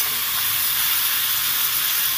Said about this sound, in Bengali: এবার আলুগুলোকে সুন্দর করে লাল করে ভেজে নেব।